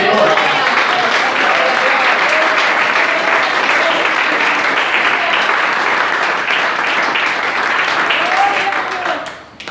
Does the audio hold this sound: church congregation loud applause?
yes